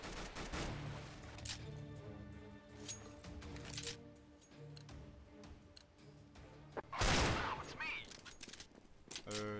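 Pistol gunfire in Counter-Strike: Global Offensive: a string of snappy shots crackles over game music and background noise, ending in a louder crashing burst near the end.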